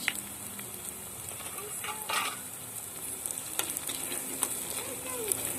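Garlic with turmeric and cumin powder sizzles in a hot pan for a rooftop picnic meal, a steady close crackle broken by occasional stirring scrapes, with no voices.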